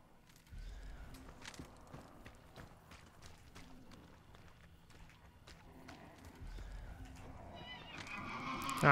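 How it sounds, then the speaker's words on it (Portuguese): A horse whinnies in Hunt: Showdown, with hoof clip-clops and faint game ambience around it. A louder, harsher burst swells at the very end. "O cavalo tá sofrendo, pessoal."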